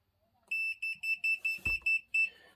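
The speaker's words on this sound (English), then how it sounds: "if it goes past 4 degrees, the laser will beep" A laser level emits a high electronic beep in a fast regular series of about eight pulses, close and clear, with a brief thump midway.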